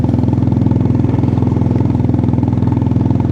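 A motorcycle engine runs steadily on a ride through Spiti mountain villages, a loud, close, even low rumble with a fast regular pulse and no talk over it.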